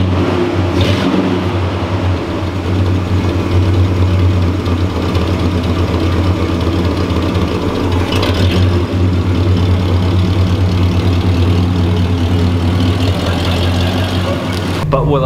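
The engine of a 1986 Oldsmobile Cutlass runs loud and steady while the car cruises at highway speed, a constant low rumbling drone filling the cabin.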